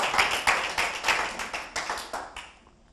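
A church congregation gives a hand clap of praise, with a dozen or so loud, fairly regular rhythmic claps close by, fading toward the end.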